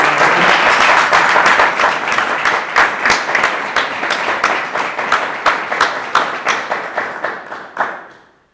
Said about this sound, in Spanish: aplauso, por favor, a mi compañera de percusiones.